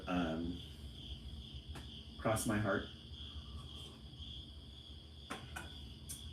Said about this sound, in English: Oh, the crickets are making you sleepy?